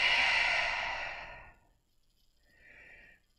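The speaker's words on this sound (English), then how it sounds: "And exhale out of your mouth." A long, breathy exhale out of the mouth during a yoga flow, soft and close, fading out over about a second and a half before a faint second breath.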